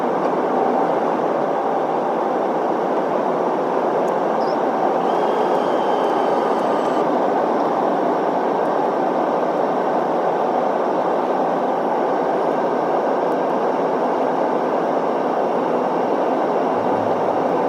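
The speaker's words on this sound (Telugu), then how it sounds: "ఇంకొద్దిసేపట్లో ఫ్లైట్ ముంబై ఎయిర్పోర్ట్లో ల్యాండ్ అవుతుంది." The passenger cabin of a flight shortly before landing at Mumbai airport fills with a steady, loud engine and airflow roar, unbroken and constant throughout, with no voices.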